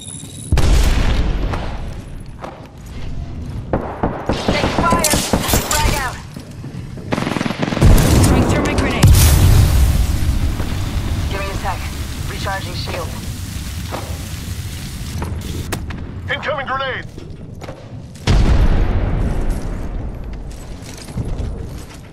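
Loud game-world grenade blasts and bursts of gunfire in a first-person shooter, with heavy booms and rapid automatic fire overlapping across the span and in-game voice callouts heard between them.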